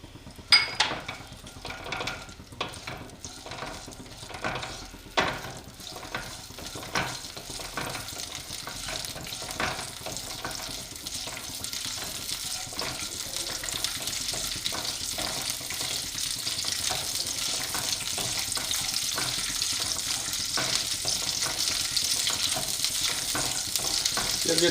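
Almonds and fennel seeds roast in a pan for sabudana kheer, giving a steady close-up frying crackle and sizzle that swells toward the end, broken early on by the scrape and clatter of stirring.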